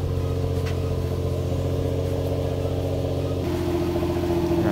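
A car that has sat unused for a few days idles steadily in cold weather after starting, its mid-pitched engine hum continuous and close, with a slight shift in tone partway through.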